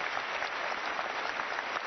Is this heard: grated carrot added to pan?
no